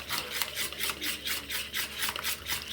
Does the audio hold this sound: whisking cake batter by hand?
yes